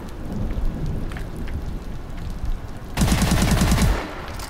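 Rapid automatic blasts from an S-12 shotgun in Call of Duty Advanced Warfare, a dense burst of about ten quick shots starting abruptly partway through after a stretch of low rumbling game ambience.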